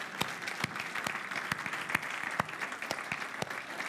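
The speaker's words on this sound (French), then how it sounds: "Oh, on peut l'applaudir." A church congregation applauds during a Sunday service: a round of clapping with a few sharp, loud claps standing out from a softer, steady patter of hands.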